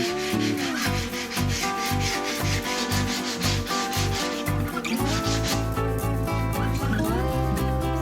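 Hand sanding with 100-grit sandpaper on the body of a 1969 Pontiac Catalina wagon: a steady rubbing scrape that runs continuously beneath loud music.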